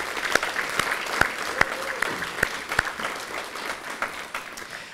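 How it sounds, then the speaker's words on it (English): Audience at a homecoming alumni brunch giving a round of applause, a moderate room of clapping with a few sharp, distinct claps standing out near the front before it gradually thins. "Let's give each of our team members a round of applause to show our appreciation."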